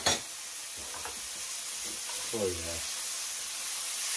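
Water hits a hot cast iron pan holding filet mignon steaks, bursting into a loud hiss that settles into a steady, close sizzle, with a brief spoken exclamation over it.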